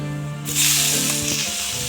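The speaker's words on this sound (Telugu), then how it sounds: "పచ్చిమిర్చి పచ్చిమిరపకాయ అంతా ఇలా మంచి కలర్గా కొంచెం బాగా వేగేటట్టు బాగా ఫ్రై చేసుకోవాలి" Green chillies frying in hot oil in a pan, giving a sudden loud burst of close, bright hissing sizzle that stays steady, with faint stirring sounds beneath and no talk.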